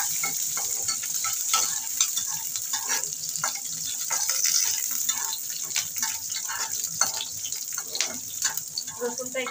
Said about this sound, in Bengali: রসুনটাকে ভালো করে আগে নাড়াচাড়া করে নেব একটু।